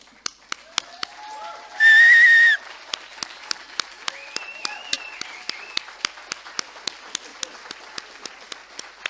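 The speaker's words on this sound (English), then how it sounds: "rise for one final raucous round of applause for the class of 2025" Audience applause for a graduating class at a ceremony in a hall, sharp individual claps ringing out steadily, with a loud piercing whistle early on and faint voices in the background.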